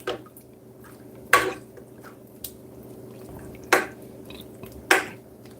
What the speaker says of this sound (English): Ever so often, You just baste him.